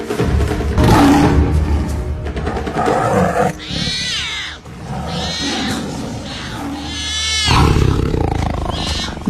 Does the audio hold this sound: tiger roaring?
yes